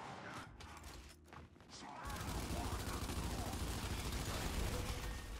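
Enemy gunfire in the shooter game Gears 5 during a ranked Control match, a dense continuous burst of rapid shots that starts abruptly partway through and stays loud, following sparser mechanical clicks.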